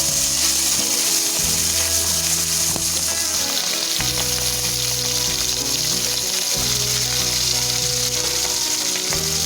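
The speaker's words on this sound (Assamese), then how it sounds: "এতিয়া এখন কেৰাহীত মিঠাতেল গৰম কৰি তাত মাছখিনি ভাজি ল'ম।" Puthi fish sizzles loudly and steadily in hot mustard oil in a kadai over a medium gas flame, a constant crackling fry with faint low clatter underneath.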